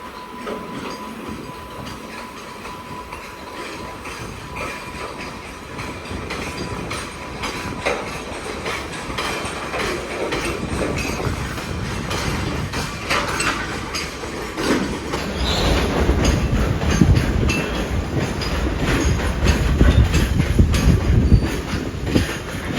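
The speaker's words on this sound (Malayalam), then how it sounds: "ഇത് കാസിപ്പേട്ട് ഷെഡിൻ്റെ 2 WH9 ലോക്കസ് ആണ്." A freight train hauled by two Kazipet shed locomotives passes a station near Pune on Central Railway, rumbling steadily and growing louder and closer, with wagon clatter and a thin wheel squeal on top.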